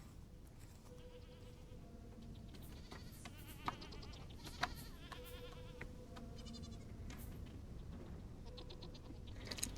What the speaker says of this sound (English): Why is there a baby goat Gen 1 in here?